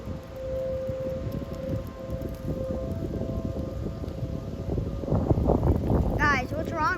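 Under wind noise and people talking, a tornado civil defense siren hums as a faint steady tone, with a brief wavering whistle-like tone near the end.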